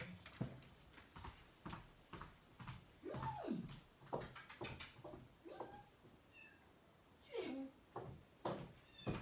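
A house cat meows repeatedly, crying insistently with several rising and falling calls at moderate distance over faint room noise.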